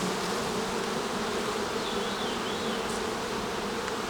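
Honeybees buzz steadily, a dense droning hum of many insects close by, with no voices.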